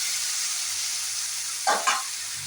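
Ground spice paste frying with pointed gourd in a pan gives a continuous bright sizzle, close and even, broken near the end by two quick scraping stirs.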